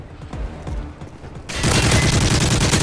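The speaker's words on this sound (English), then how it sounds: "They can't even see me, and they're just shooting." Dense video game gunfire from Modern Warfare 3, at first sporadic shots and short bursts under background noise, then a sudden loud, sustained fusillade of rapid automatic fire filling the second half.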